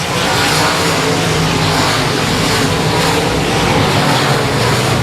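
Race cars at Cotton Bowl Speedway roar continuously in a dense, loud engine drone, with no break or fade and no audible talking.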